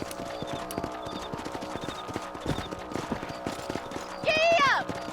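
Horses in the video game Red Dead Redemption, steady rhythmic hoofbeats clip-clopping at a gallop, with a brief rising whinny near the end and game sounds around them.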